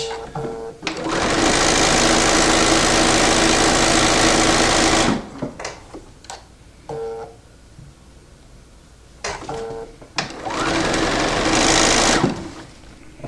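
A sewing machine stitches quilt pieces for a December diamond quilt in two loud, steady runs, a long burst of about four seconds and a shorter one near the end, separated by quiet handling clicks.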